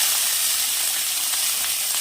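A piece of Bhetki fish fries in a hot pan, giving a steady, even sizzling hiss close by, with no other sounds over it.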